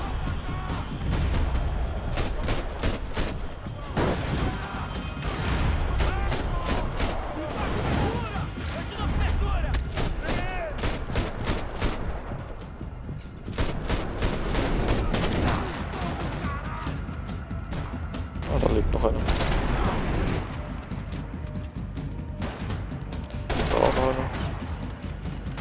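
Rapid, dense bursts of gunfire and explosions from Max Payne 3 roll on continuously, with voices talking over the game combat throughout.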